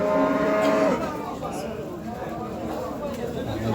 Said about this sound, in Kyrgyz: Музоосу мына чоңоюп калган экен.